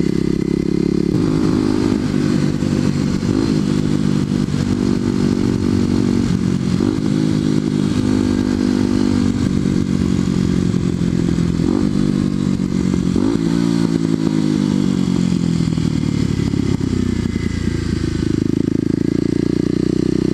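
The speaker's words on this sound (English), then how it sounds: "people are already crossing them on their motorbikes, so dirt bikes" A dirt bike engine drones loudly and continuously up close, its pitch rising and falling as the rider throttles over rough ground.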